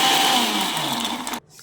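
A mixer grinder blends a thick banana oats smoothie with milk and chia seeds, a loud steady motor whir that runs for over a second and then cuts off abruptly, leaving quiet.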